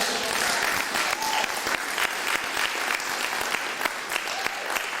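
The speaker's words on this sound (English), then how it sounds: "Clap it up." An audience claps steadily and densely for several seconds for a holistic healer, a sustained wash of many hands with no break.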